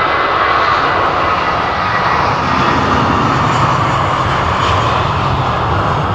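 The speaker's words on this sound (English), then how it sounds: "A340. Suriname, wow." A Surinam Airways Airbus A340 jet airliner passes at London Heathrow, producing a loud, continuous broadband engine roar that stays strong and steady throughout.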